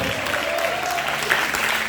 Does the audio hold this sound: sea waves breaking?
no